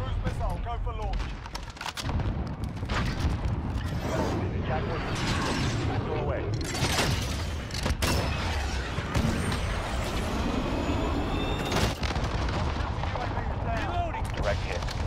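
A cruise missile killstreak launches and detonates in Call of Duty: Modern Warfare during a 10v10 Headquarters match on Euphrates Bridge, with loud continuous gunfire, booming blasts and mechanical clatter dense throughout while announcer voices talk over the combat.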